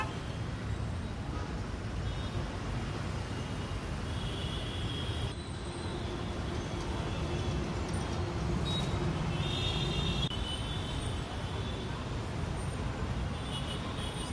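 Jammed traffic on the Western Express Highway in Mumbai gives a dense, continuous rumble of idling and creeping vehicles, steady and close throughout with faint higher squeals and hum on top.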